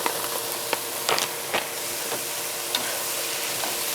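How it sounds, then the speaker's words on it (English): Crumbled sausage sizzles in a frying pan for a breakfast bowl, a steady close hiss broken by several sharp scraping stirs and crackles, with no voices. "Okay, now crumble sausage."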